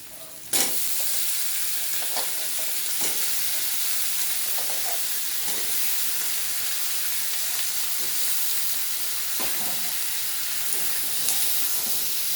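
Potatoes added to browned onions frying in a pan, a sudden splash of sizzle followed by steady hissing frying and occasional stirring scrapes.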